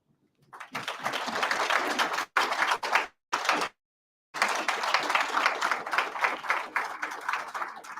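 An audience applauds at an apprenticeship graduation ceremony, the dense clapping broken by a few short cuts of silence before resuming, loud and steady.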